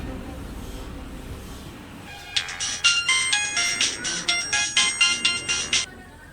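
A phone rings after a number is dialed, a sharp bright electronic ringtone pulsing in quick repeated bursts for about three seconds, close and loud after a quieter murmuring start.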